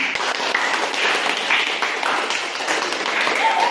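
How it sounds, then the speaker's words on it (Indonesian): Applause from a classroom for a discussion group, a dense, steady patter of many hands clapping close by, with voices mixed in. "Berikan aplaus untuk kelompok 3."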